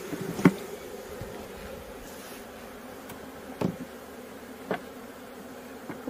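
Honeybees buzz around an open hive during spring colony inspection, a steady faint drone with a few individual bees zipping close by, heard without talk.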